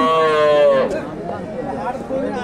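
A cow gives one long, loud, low moo at the Dakumara cattle market, which sells local and Friesian calves; the call fades into a background of crowd chatter.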